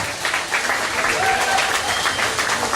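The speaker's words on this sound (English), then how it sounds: "And let's give them a big round of applause." A live audience claps and cheers at a studio backlot tour show, a dense, steady wash of applause filling the whole stretch at close range.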